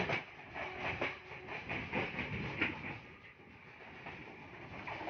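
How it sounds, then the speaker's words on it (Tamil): Steady rhythmic clacking of train wheels on rails with a constant rushing rumble, no voices, heard aboard a Jaffna to Colombo express train at night. "ரெயின் தண்டவாள சத்தம் தான் பெருசா கேட்டுக்கிட்டே இருக்கு."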